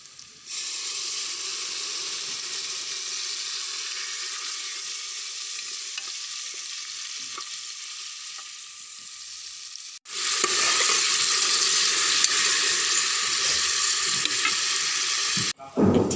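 Chicken gravy fries in a pan with a loud steady sizzle and hiss as water is added, with a sharp surge of louder sizzling partway through and a brief break near the end.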